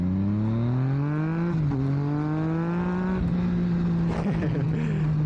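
Yamaha MT-09 motorcycle engine, very loud and close, rising in pitch through the gears with short breaks at each shift, holding a steady drone at the end.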